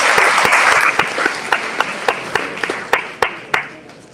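An audience at a mayoral candidate forum hosted by the Hamden African American Club applauds the candidates, a dense wash of clapping that thins out into a few sharp, separate claps toward the end.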